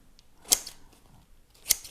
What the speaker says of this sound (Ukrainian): А тепер давайте візьмемо ножиці, саме садові ножиці.